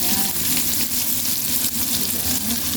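Fish sizzles and crackles steadily in hot oil, frying for Filipino sarsiado, a dense close-up frying hiss with no one talking.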